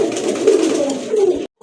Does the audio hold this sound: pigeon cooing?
yes